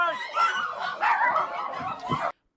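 Several dogs bark and yip close by in short overlapping bursts for about two seconds, with a voice talking underneath.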